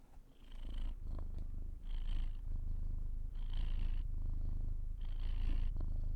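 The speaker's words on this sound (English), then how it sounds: "I don't know if you can hear him purring. He is so purring." A house cat purrs close up in a steady rhythmic rumble, each breath cycle marked by soft airy swells, with no talking.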